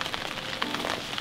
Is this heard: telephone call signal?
no